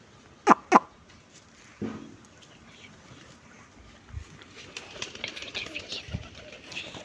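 Pigeons cooing at feeding time beside their cage, two brief calls early on, then low scattered coos and rustling under a faint background.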